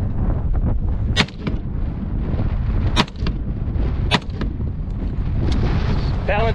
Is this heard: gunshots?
yes